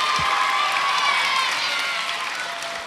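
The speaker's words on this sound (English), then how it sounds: "Can we give another round of applause to all of our participants?" A school spelling bee audience gives the participants a loud, sustained round of applause, dense clapping with a light crowd murmur that holds steady and eases slightly toward the end.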